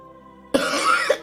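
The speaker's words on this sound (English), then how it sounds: "Still got a bit of a cough, as you can see." A person coughs in a short, close burst, with a couple of quick follow-up coughs, after a brief stretch of soft sustained tones.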